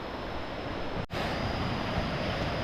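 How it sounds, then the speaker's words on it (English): A natural waterfall slide in Thailand roars with a steady, dense rush of falling water, close and loud throughout, with one brief dip in the middle and no voices. "This is a waterfall I've seen quite a few times on YouTube."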